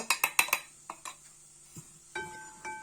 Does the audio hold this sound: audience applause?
no